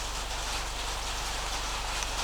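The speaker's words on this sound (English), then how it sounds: "Oh, now it's raining, so sorry about the rain sound." Steady, dense rain patters on a tin roof, a continuous hiss at a fairly quiet level with no voices.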